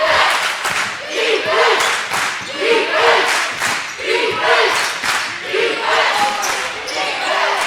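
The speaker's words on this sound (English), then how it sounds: "The Knight crowd chanting defense right now as Mike Ward for three." Home crowd at a college men's basketball game chanting defense, a loud rhythmic two-beat chant with stomping and clapping that repeats steadily over a constant roar of the packed gym.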